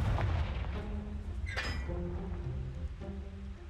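A Confringo explosive spell blasts in Hogwarts Legacy, a booming rumble followed by a sharp crackling burst and fading tonal effects, fairly quiet overall and with no talking.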